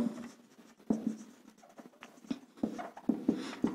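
Pen strokes writing notes during a biology lecture on phylum Chordata, with close scratchy taps and short strokes in an irregular rhythm, moderately faint, and no talking over them.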